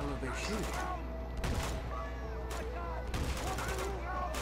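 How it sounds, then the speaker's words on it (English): In Uncharted 2, enemies trade gunfire that comes as several separate bursts of shots. Voices and other game sounds continue underneath at moderate loudness. "Well, they're obviously shooting at each other, seems like."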